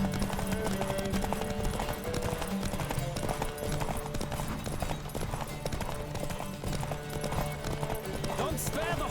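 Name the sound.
horse galloping in The Witcher 3 video game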